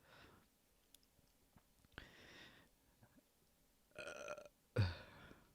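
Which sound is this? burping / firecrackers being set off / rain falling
burping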